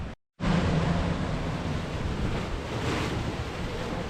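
Sea waves surge and crash against a rocky Scottish coastline, a loud, continuous broadband roar mixed with wind buffeting the microphone, after a brief moment of silence at the start.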